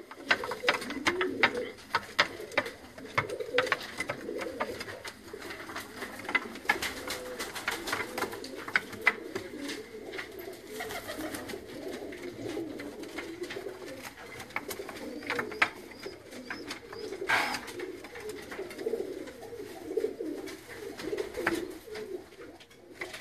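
Pigeons cooing close by, with repeated soft throaty coos rolling one after another in an uneven rhythm, under some low background chatter.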